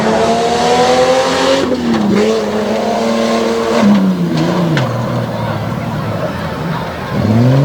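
A race car on a timed run toward the finish in Abbottstown, Pennsylvania roars loudly and close, its engine note sweeping up and down through shifts and corners with a brief tire-scrub edge, continuous throughout.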